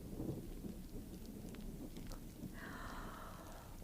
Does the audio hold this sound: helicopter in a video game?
no